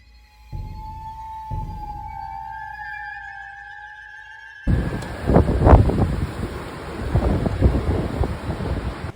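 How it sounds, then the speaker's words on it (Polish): Faint electronic tones give way to loud, gusty gale wind that roars and buffets the microphone without letup, during a windstorm that broke power poles in Masuria, Poland. "U nas wichura jak jasna cholera"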